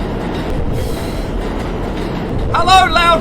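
A loud subway train rumbles past in a horror-themed video game, a heavy continuous roar of wheels and rail noise that ends in a sharp, high metallic wheel squeal.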